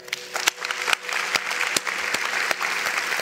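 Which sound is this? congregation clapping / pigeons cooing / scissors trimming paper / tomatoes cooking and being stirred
congregation clapping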